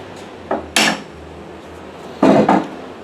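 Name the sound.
hammer tapping a thread spike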